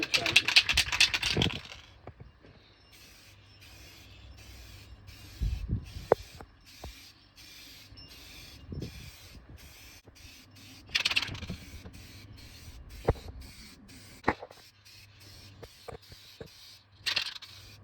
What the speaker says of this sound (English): So when I'm spraying it, I'm looking at a slight angle and I can see where it's wet and it's not wet.